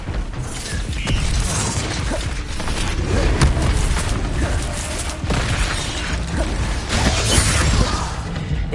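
A fire spell cast in Hogwarts Legacy on PS5, heard as a dense, loud burst of crackling flame and magical whooshing with booming impacts, rising twice to louder peaks over nearly nine seconds amid busy combat sounds.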